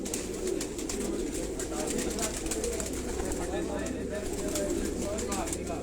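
A Black Cobra pigeon, a fancy breed kept by a Sialkot pigeon keeper, coos softly and continuously beneath a busy outdoor backdrop, with people talking nearby.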